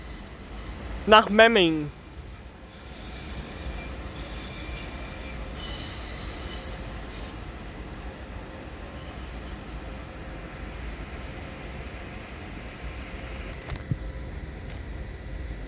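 An ÖBB train pulls out of Munich main station heading toward the Allgäu, opening with a sharp burst of wheel squeal, then a steady rolling rumble of railcars that carries on, with a brief station announcement early on.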